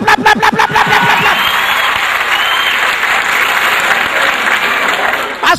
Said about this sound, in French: s'il vous plaît, applaudissez tout